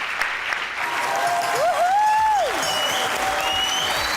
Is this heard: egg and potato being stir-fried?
no